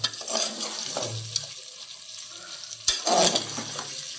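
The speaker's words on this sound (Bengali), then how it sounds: "মাংস আমাদের ভালো করে কষিয়ে নিতে হবে। এই কষানো চলছে" Chicken is stir-fried in oil in a pan for a dhaba-style sherwa, with bursts of sizzling and scraping spatula strokes that come and go in uneven rhythm, close and moderately loud.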